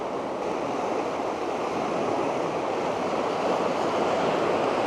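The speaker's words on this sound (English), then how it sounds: "Look at the torrent." A flooded river torrent rushes past a homestead in November, a dense, steady roar of water that fills the air without letup, close by and loud, with no voices.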